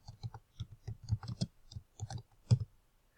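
A computer mouse clicks repeatedly in quick, irregular succession, soft and close, with short pauses between the clusters of clicks and no talking.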